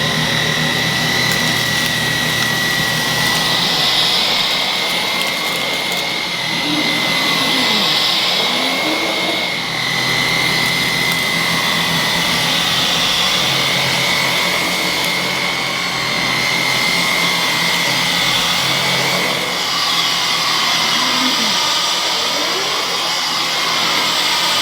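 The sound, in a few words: Dyson Digital Slim cordless vacuum cleaning a rug on medium setting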